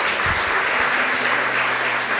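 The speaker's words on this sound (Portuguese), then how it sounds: "Quem pode aplaudir ao Senhor?" Steady applause from a large church congregation, dense and continuous clapping throughout at a fairly loud level.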